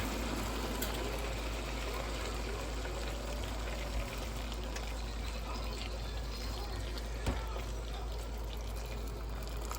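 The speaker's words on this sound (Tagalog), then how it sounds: "Lagyan natin ang tubig." Water poured into a cooking pot of boiling water while making pinakbet, a Filipino vegetable stew, giving a steady close splashing rush that runs unbroken throughout.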